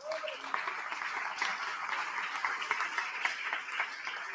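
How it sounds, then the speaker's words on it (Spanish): A church congregation bursts into sustained applause, dense clapping from a large crowd filling the room evenly for several seconds. "Den un aplauso al Rey."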